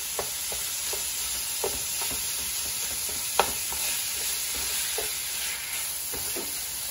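Ground meat browning in a pan while a spoon breaks it apart for cheesy baked spaghetti: a steady, even sizzle with occasional soft scraping taps of the spoon, close and alone.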